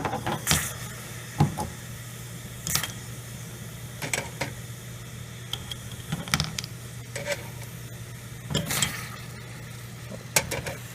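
A pot of water is heated by hot rocks dropped into it, giving a steady low bubbling and simmering rumble with occasional sharp knocks and splashes as the stones go in, and no talking.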